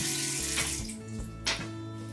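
Tap water runs steadily into a bathroom sink while a face is rinsed with plain water, with splashes and shifts in the flow, close and continuous, and no one speaks.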